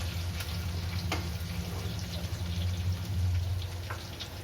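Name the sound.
panch phoron and slit green chilies frying in oil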